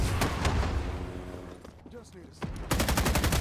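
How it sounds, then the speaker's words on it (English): Gunfire in Rising Storm 2: Vietnam, loud volleys of rifle and machine-gun shots, dropping briefly into a quieter gap before another burst; someone narrates over the shooting. "the weapons I did use made me feel powerful and sounded awesome in my shaking hands"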